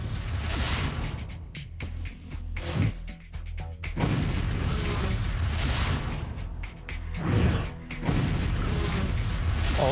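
A Beretta pistol prototype is test-fired three times, giving sharp loud cracks with crashing reverberation spread across the stretch, the shots standing out among mechanical clatter and whooshing noise.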